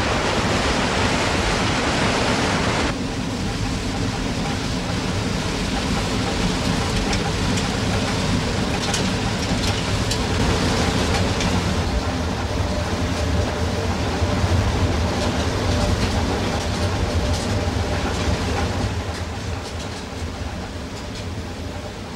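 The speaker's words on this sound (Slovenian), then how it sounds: "Voda tutni, kamen bruji, a ono ko neki instrument" Water mill running: rushing water from the sluice and a steady humming millstone make a dense, continuous roar, loud and close, with no talk.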